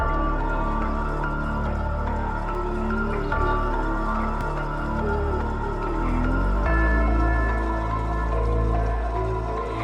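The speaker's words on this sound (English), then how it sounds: "how to make a scary horror sounding beat that sounds like this" A dark, ominous instrumental beat with heavy sustained low bass and eerie layered tones, playing steadily without any voices.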